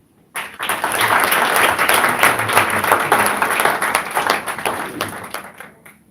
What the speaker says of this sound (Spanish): Usted no sabe por qué fue ese aplauso